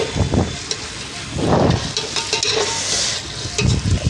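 Ginger garlic paste with tomato sautéed in a pan over a village wood-fired stove for mutton curry, with steady sizzling and repeated scraping stirs of a spoon close up.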